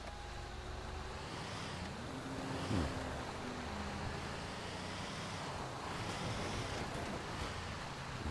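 Wind blowing in the RedLine RP video game, a continuous broadband rush with surf-like swells rising and falling, moderately loud and steady, with no speech.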